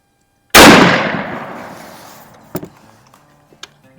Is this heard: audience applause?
no